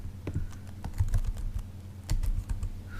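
Typing on a computer keyboard, a short run of close, irregular key clicks and taps, no talking.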